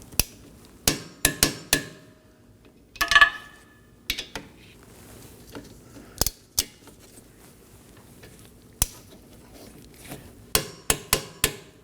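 Caliper bolts on a 2019-2024 Chevrolet Equinox rear brake being torqued to spec: a dozen or so sharp, close metallic clicks at irregular intervals, with one brief rattling cluster early on and no talking.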